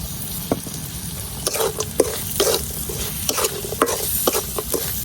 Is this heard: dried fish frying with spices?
yes